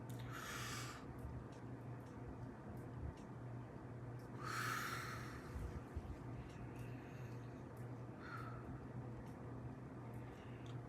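Slow, deep breaths drawn in and let out, about three audible breaths spaced several seconds apart over a steady low background hum.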